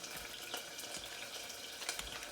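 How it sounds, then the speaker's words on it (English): Boiled plantains are mashed by hand with a spoonful of butter and a little leftover cooking water, giving close, soft squelching and scraping strokes that repeat steadily. "And I'm just gonna mash them"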